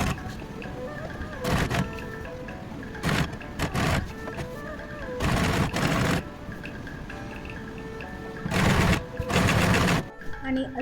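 A sewing machine stitches the side seam of a skirt sewn from a saree in several short bursts of loud whirring, separated by quieter gaps with a background hum.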